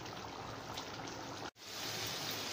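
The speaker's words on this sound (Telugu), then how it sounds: "మనం వాటర్ పోసాము, వాటర్ పోసాక ఇట్లా ఉడుకుతుంది." Chicken roast simmering in a pan after water is poured in gives a steady, close bubbling hiss that breaks off for an instant midway, then resumes.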